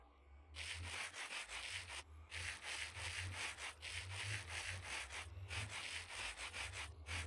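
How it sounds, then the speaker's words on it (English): Steady rubbing and sanding sound from sandpaper polishing rose quartz in modded Minecraft, a continuous gritty scrape repeated in long strokes with brief gaps, fairly quiet and alone. "Okay, we have now polished the rose quartz."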